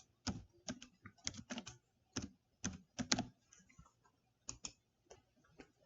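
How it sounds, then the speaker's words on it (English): A customer's name is typed on a computer keyboard in sparse, distinct clicks and short runs of keystrokes, close and crisp in a quiet room, with no voices. "Type their name in and click Save."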